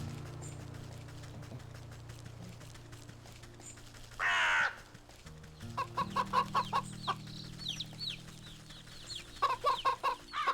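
Chickens cluck and call in short bursts in the video game Wytchwood, a rooster-like squawk followed by clusters of clucks over a low ambient game hum.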